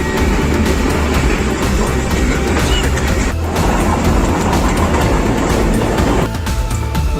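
The 46 Down Pakistan Express passenger train runs loudly on its rails, with a steady rumble, rhythmic wheel clatter and faint squeals continuing throughout.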